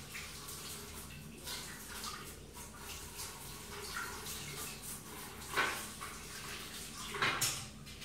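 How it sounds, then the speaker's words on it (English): Tap water runs steadily into a bathroom sink while something is rinsed out, a continuous close splashing wash with a couple of brief louder surges. "I'm just going to wash this one out of the sink"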